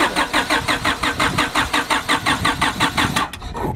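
A car engine cranking on the starter without catching, a loud, steady rhythmic churning of about fifteen even pulses that cuts off near the end.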